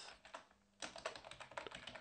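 A Linux package install command being typed on a computer keyboard: a brief pause, then a fast run of crisp, close keystrokes with no speech over them.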